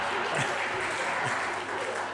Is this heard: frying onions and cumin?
no